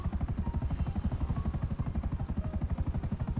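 Helicopter in GTA 5 Online, a steady loud rotor chop beating in fast regular pulses throughout, close and alone with no talk.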